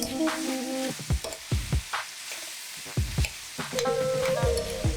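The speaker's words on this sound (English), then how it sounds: "We'd love the sizzle and fragrance of cooking wine coming from the side of the fry pan." Cuttlefish and vegetables sizzle loudly in a frying pan, a dense close crackle broken by the scrape and clatter of stirring, with brief pops and a renewed hiss toward the end.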